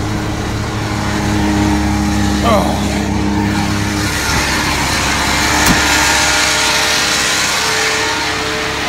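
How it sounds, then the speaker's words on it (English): A vacuum truck's engine runs with the PTO engaged, a loud, steady rumble with a broad roar, and a brief voice is heard over it. "Let out in the clutch slowly to engage the PTO."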